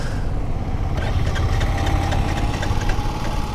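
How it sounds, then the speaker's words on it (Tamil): A vehicle engine is cranked in an attempt to start it, giving a loud, steady rumbling churn that runs the whole time without a clear catch, with no talking. "வண்டியை நான் இப்போ ஸ்டார்ட் பண்ணுற மக்களே."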